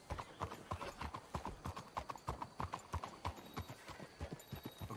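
Horse hooves clip-clopping steadily in the Red Dead Redemption 2 video game, a brisk continuous rhythm of several horses close by, over a soft outdoor background.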